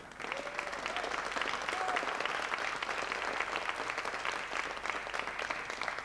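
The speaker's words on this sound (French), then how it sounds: "on l'applaudit là" Studio audience applause for guests, including Michel Piccoli, on a 1980s French TV music show, a dense, steady clapping that holds at full strength from start to finish, with no voices heard above it.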